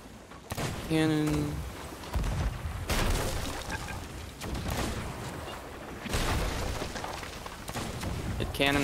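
Heavy cannon fire in a naval battle video game, with repeated deep booms and rumbling impacts layered over a loud, busy game soundscape while a player talks throughout.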